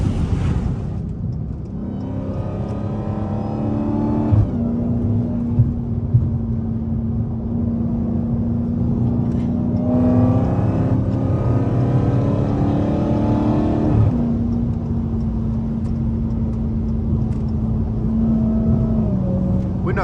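A straight-piped Dodge Hellcat rumbles from inside the car while driving, its loud, deep exhaust drone holding steady with a few rises in pitch as the throttle opens and shifts.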